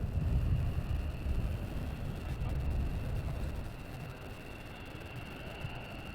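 F-15 Eagle fighter jets taxiing out at RAF Lakenheath, a steady distant low jet rumble with a thin high whine running throughout, fairly faint and slightly easing toward the end.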